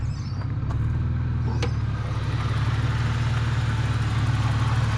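A 4-litre car engine in a new race car project runs steadily at idle, a loud, close, even rumble throughout, with a couple of faint clicks early on.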